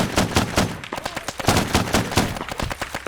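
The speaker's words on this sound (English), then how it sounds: "Get him, turret!" A turret machine gun in a war video game fires rapid, evenly spaced bursts, loud and close, in a continuous rattling stream with no voices over it.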